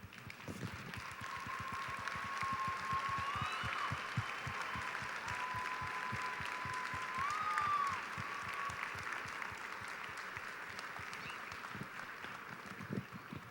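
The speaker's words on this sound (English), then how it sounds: "please stand and let's give them a round of applause" A banquet audience at the 2014 EAST school awards gives a sustained round of applause, a dense, even roar of many hands heard from a distance, steady for over ten seconds before easing slightly.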